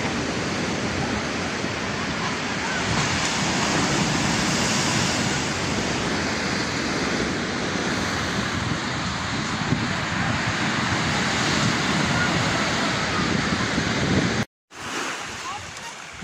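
Broad, steady wash of Black Sea surf at Adler with wind rushing across the microphone, constant and fairly loud, cut by a brief dropout near the end.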